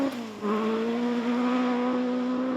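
A historic-spec Ford Escort rally car runs hard on a special stage, its engine note holding a strong, steady buzzing pitch after a brief dip, loud and continuous with small shifts.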